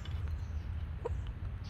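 Chickens clucking near a coop, a few soft, brief clucks over a steady low background hum, faint and somewhat distant.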